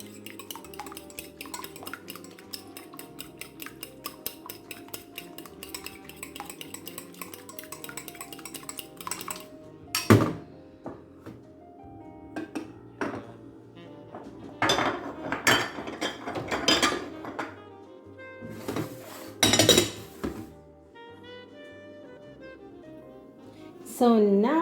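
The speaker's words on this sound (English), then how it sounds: "I'm gonna start whisking it." Eggs whisked in a bowl while making sweet and sour chicken, rhythmic metal clinks and scraping against the bowl in bursts that grow louder and faster midway, with background music throughout.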